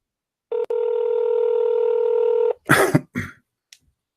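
A telephone call being placed: a steady dial or ringback tone sounds for about two seconds, followed by a cough or throat clearing and a brief thump.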